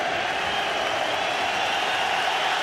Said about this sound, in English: there's a massive round of applause going around the ground